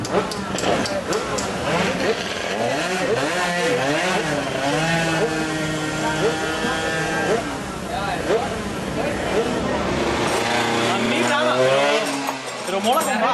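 Loud, revving racing motorcycle engine whines up and down in rising sweeps, accelerating and shifting gears, sustained throughout.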